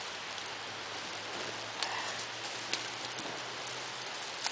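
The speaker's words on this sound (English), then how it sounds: "It's starting to rain again" Rain starting to fall outdoors at a makeshift survival shelter: a steady soft hiss of drops that stays even, with a few sharper taps standing out now and then.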